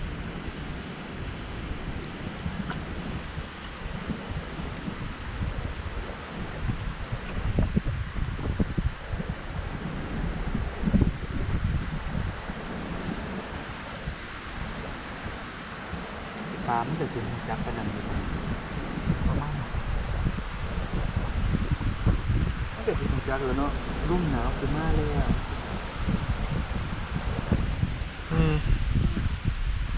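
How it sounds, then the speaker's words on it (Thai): Strong wind gusts outdoors by the Chi River buffet the microphone with a loud, continuous roar and rustle that swells and eases throughout, occasionally overlaid by faint background voices. "ลมมากเลย"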